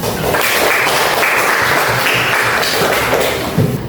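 A classroom group claps together in loud, dense applause that holds steady for about four seconds, close to the listener and with no voices over it.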